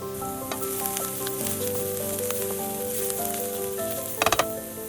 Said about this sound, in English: Sauté it gently until it becomes translucent and starts to caramelize